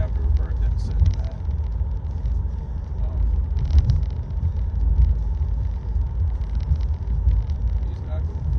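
Tesla Model 3 Performance driving on Full Self-Driving, a constant low road and cabin rumble with tire noise, loud and steady throughout, with a voice talking over it.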